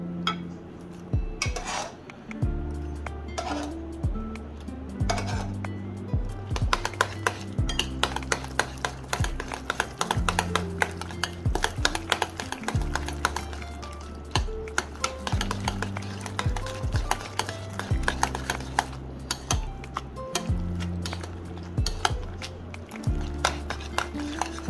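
A utensil scrapes and clinks steadily against a pan while udon carbonara sauce is stirred, mixing egg into a creamy coating, with repeated metallic taps and rubbing at a moderate, close level and no talking.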